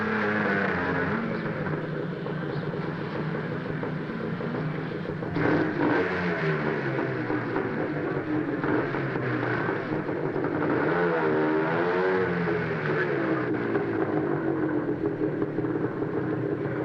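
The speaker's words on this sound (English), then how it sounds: "one of these taxi rickshaws has been souped up with a 10-horsepower engine." A taxi rickshaw souped up with a 10-horsepower engine revs and drives on a street, its mid-pitched motor droning loudly and steadily, rising and falling in pitch with clattering over the whole stretch.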